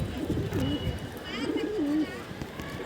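Pigeons coo in low, rolling phrases twice, each ending in a short dip, over steady background noise and some indistinct human sound.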